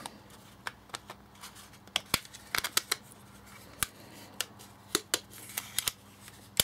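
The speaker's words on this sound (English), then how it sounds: "That clicks shut." A small pocket-sized folding tablet stand weighing about 50 grams is folded up, giving a series of sharp, close plastic clicks and snaps spaced irregularly over a quiet background.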